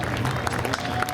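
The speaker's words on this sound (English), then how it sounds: "How about a round of applause for tonight's Seekonk Sport Truck Feature win?" A crowd applauds at Seekonk Speedway after a Sport Truck feature race, a brief burst of steady clapping at moderate distance with a faint murmur of voices underneath.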